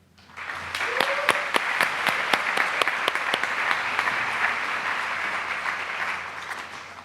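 An audience at an award ceremony breaks into applause, a dense sustained clapping of many hands that swells quickly and holds steady before tapering slightly, with a brief voice early on.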